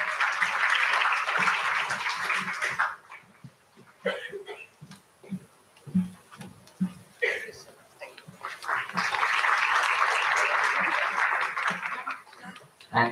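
Applause from a conference audience at a natural speciality ingredients event, two sustained bursts of clapping separated by a stretch of someone speaking and scattered sounds in the room.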